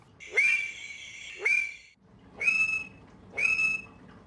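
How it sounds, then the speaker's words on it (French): Mating calls of West African frogs, Conraua alleni, recorded in the field: four separate whistled calls, each a rising sweep into a sustained tone, spaced about a second apart and heard clearly without talk. "Nous entendons maintenant les chants d'accouplement de ces deux populations."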